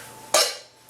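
A mixing bowl being turned while beaten egg whites are folded into Greek yogurt cake batter: a single short clink and scrape of the bowl, close and fairly loud, fading quickly in a quiet kitchen.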